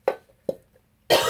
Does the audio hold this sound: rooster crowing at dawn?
no